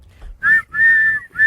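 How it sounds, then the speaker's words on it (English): Whistle sound effect blown in three bright tones, a short blast, a long sustained one, then another beginning at the end, loud and close with no talk over it. "Blow the whistle."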